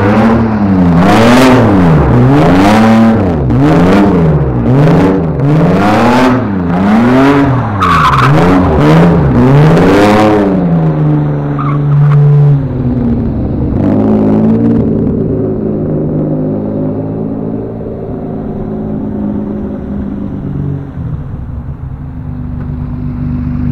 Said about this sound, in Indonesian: Dan sekarang saatnya kita gas sedikit dan tarik rem tangan